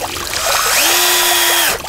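A cordless power drill drives a stainless steel screw at a garden koi pond, the motor whining up to a steady high pitch for about a second before winding down, close and loud with no talking.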